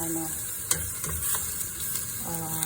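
Onion sautés in a hot pan for molokiya, a steady close sizzle with a few light scrapes and stirring taps running throughout.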